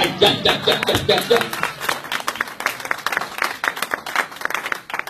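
A church congregation bursts into applause during a pastor's sermon, loud, uneven clapping that starts strong, with voices mixed in at first, then continues in irregular, fading claps.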